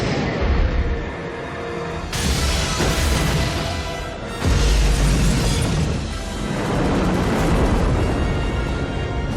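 Sidewinder missiles launched and exploding in a city scene from the 1998 Godzilla movie, loud booming blasts and roaring bursts in several waves, dense and layered with crashing debris.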